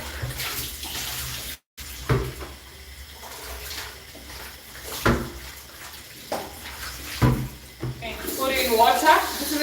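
Tap water runs into a basin being rinsed in a home kitchen before potatoes go in, a steady splashing wash under intermittent talk.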